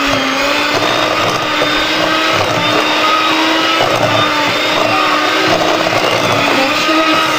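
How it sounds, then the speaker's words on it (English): Electric mixer creaming butter and sugar for blueberry muffins, a loud, steady whirring drone that holds without a break, close up, with no talking. "now we're going to cream the butter and the sugar together."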